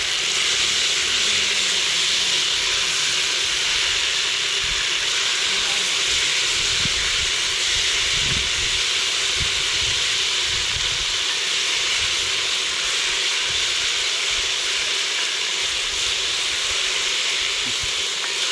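Garlic paste and ginger hiss loudly in a lamb potjie pot cooked outdoors in the Qatar desert, a steady, close, broadband sizzle lasting the full stretch with faint voices now and then.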